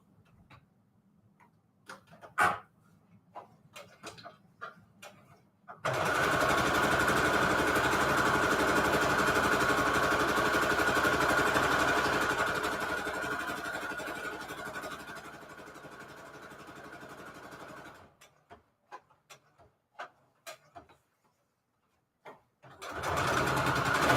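Close, quiet clicks and taps come first, then a sewing machine threaded with black thread straight-stitches a junk journal in a steady, loud rapid whir for about twelve seconds before scattered handling clicks return.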